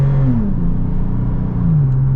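Used Toyota 4Runner TRD Pro engine accelerating from inside the cabin, a loud, steady mid-range drone with pitch climbing and settling as it strains to gather speed, no voices over it.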